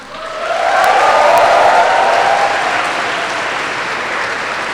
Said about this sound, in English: Another round of applause for all 4 teams for making this far.